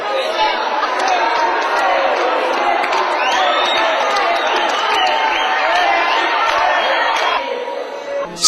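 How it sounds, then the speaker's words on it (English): A crowd of street kids cheers and shouts as they receive blankets in Africa, a dense, lively mix of young voices, whoops and chatter close by. "And when they get blankets, there is a big cheer."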